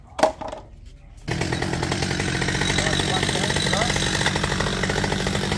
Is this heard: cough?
no